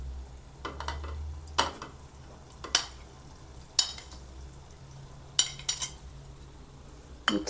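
Paneer is stirred into matar paneer curry in a pan, with a spoon clacking sharply against the metal in irregular strokes over a low simmering sizzle.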